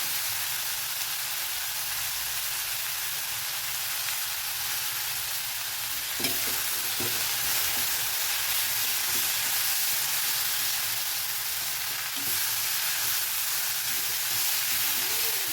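Finely chopped broad beans (avarakkai) sizzle and hiss steadily in hot oil, with a few soft knocks of a stirring spoon against the pan, all close and without talk.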